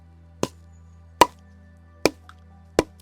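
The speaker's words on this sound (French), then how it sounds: "on a un bruit qui sonne un peu creux, et donc là, on est sur un bois sec." Dry firewood logs struck against each other give four sharp, hollow knocks, close and evenly spaced about a second apart, over a faint steady low hum.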